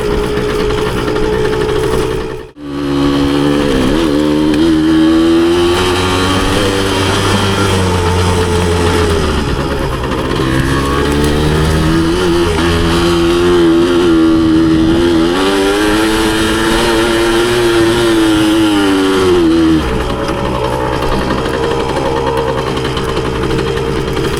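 A 1981 Suzuki DS100 trail motorcycle cruises in fifth gear along a dirt trail, its small engine droning steadily and close, with a brief dip near the start and rising and falling revs as it climbs a small hill.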